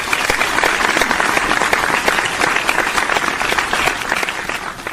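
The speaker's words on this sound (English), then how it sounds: "Everybody give him a round of applause." A crowd at a live show applauds for a birthday, with steady, dense clapping that stays loud and even for several seconds, nearby and unbroken by talk.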